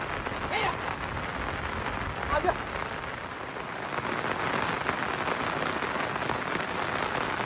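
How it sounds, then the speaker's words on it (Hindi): Heavy rain keeps falling at night in a high Himalayan meadow on a shepherd's route, a continuous broadband hiss of rain on surfaces that grows slightly stronger toward the end. Faint voices briefly surface beneath it. "बारिश तो लगातार बढ़ती जा रही है।"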